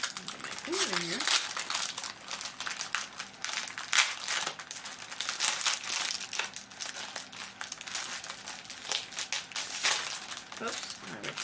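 Close paper crinkling and tearing as a package is unwrapped, with intermittent rustles and rips; a voice speaks briefly near the start.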